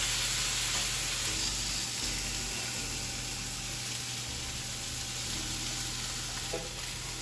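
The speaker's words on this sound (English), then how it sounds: "this is a hot pan. So you want to sear in the flavor. Hot pan, room temperature steak" Room-temperature steak sears in a hot pan, a steady loud sizzle and crackle running the whole time over a low constant hum, with no voices.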